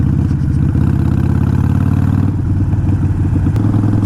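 A 2019 Harley-Davidson Iron 883 motorcycle engine runs close by with a loud, lumpy idle, its rapid uneven pulsing and clatter continuing steadily with a slight shift near the end.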